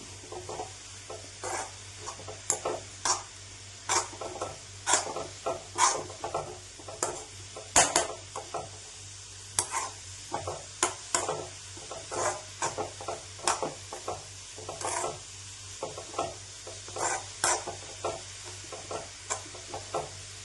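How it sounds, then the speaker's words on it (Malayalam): Cucumber mixed with ground coconut paste stirred in a pan, a quick, repeated series of scraping and tapping utensil strokes over a faint sizzle, close and fairly soft, with no one talking. "ഇനി നമുക്ക് കുറച്ച് ഇളക്കി കൊടുക്കാം."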